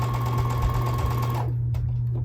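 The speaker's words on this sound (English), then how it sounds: "I'm going to sew the strip sets first" A sewing machine hums and stitches quickly through quilt strip sets for about a second and a half, then stops, leaving a few faint clicks and handling sounds.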